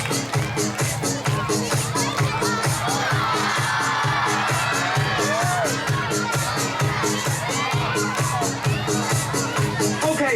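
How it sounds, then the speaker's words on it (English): An audience at an outdoor bird show in Dubai Creek Park cheers and claps loudly and steadily, with children shouting and whooping throughout the dense crowd noise. "put your hands together for Tom and Jerry"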